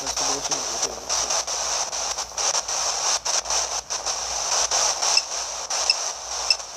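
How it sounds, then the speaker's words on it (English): A spirit box scanning radio frequencies during a ghost-hunting communication session gives off continuous hissing white-noise static, chopped by rapid clicking breaks and brief dropouts, close and steady throughout. "That clicking though is actually creating white noise for the energy to be able to communicate through."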